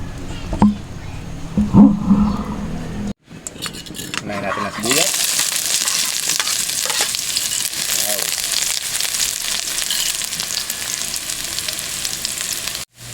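Cooking oil heats in a pan with a loud, steady hiss and crackle that starts partway through, after some brief handling noises and a moment of silence.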